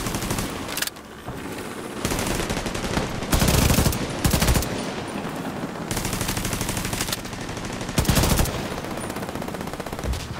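Rapid bursts of gunfire in The Division 2 crackle almost nonstop, with automatic volleys and louder blasts punctuating the stream, close and loud throughout.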